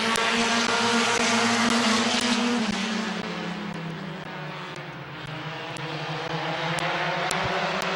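Compact race cars in the My Water Doctor Compacts class roar off at the start of a final heat at Midvale Speedway, a loud massed engine drone that dips briefly and then builds again.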